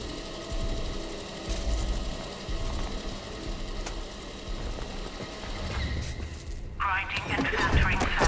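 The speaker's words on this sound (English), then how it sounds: "Grinding and filtering sample." A sample grinder whirs and rattles steadily in the video game Atomfall, a continuous mechanical grinding hum that shifts into a brighter, higher filtering buzz near the end, with a game voice speaking over it.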